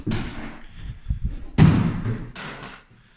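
An apartment door swings shut, giving a couple of solid thuds and a louder slam midway, in a renovated apartment with high ceilings, followed by fading room noise.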